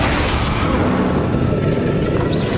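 A Bombarda explosion spell from Hogwarts Legacy booms loudly and steadily across the whole stretch, a dense, continuous low rumble with no clear separate blasts.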